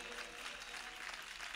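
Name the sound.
congregation clapping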